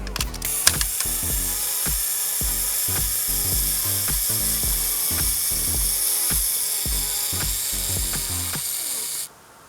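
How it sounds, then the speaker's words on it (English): The self-timer mechanism of a Canon Canonet camera runs as a fast, even ratcheting buzz of tiny gear clicks, close and continuous for about nine seconds, then stops abruptly. "I forgot also to mention the self-timer that's down here."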